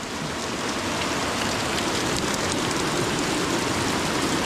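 Steady, dense hiss of water falling from a mountainside like heavy rain, constant and close, with no voices.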